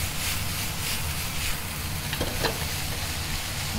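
Yaki udon noodles being stir-fried in a pan, with a steady loud sizzle and frying hiss throughout and a few scraping stirs from a utensil near the middle.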